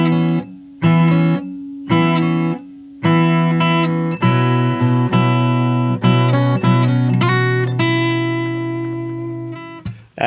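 Solo fingerstyle guitar picks the repeating melody line of a song, with plucked notes ringing over steady bass, first in short separated phrases and then flowing continuously, close and clear with no talking.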